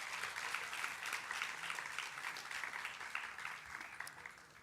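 Audience applause at a college valediction event after a performance, a continuous wash of clapping heard faint and distant, steady throughout.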